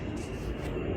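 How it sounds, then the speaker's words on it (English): Steady roaring drone of an airplane passing overhead, heard outdoors beside a 2016 Ford F-150 during brake light work, continuous and fairly loud with no talking. "Sorry about the plane over there, it's kind of loud."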